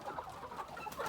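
A large rooster clucks on a farm in a short series of quiet, close clucks with soft background noise.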